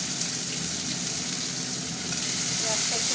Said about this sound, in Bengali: পেঁয়াজটা একটু ভাজা ভাজা